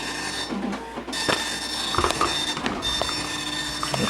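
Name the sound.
printer printing from Atari Portfolio via parallel interface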